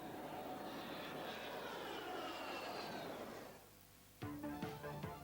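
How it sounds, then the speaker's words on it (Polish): An A-7 Corsair jet attack aircraft roars loudly and steadily overhead, then fades away, followed by faint clattering tones at the end. "samoloty szturmowe A-7 Corsair"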